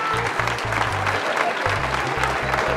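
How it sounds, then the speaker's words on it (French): An audience at a women's firefighter championship in France applauds steadily, the dense clapping joined by loud rhythmic low thumps like music or drumming underneath, with a brief pause in the beat midway. "vous pouvez les applaudir"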